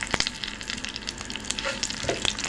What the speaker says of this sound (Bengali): এখন আমি ফোড়নে দিচ্ছি কালো জিরে, তারপর এখানে শুকনো মরিচ অ্যাড করে নিলাম, তারপর একটা তেজপাতা দিলাম ফোড়নে